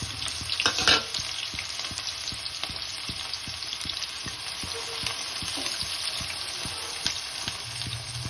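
Chopped onion frying in hot oil in a pan, a continuous close sizzle and bubbling hiss with regular soft stirring scrapes, no voices.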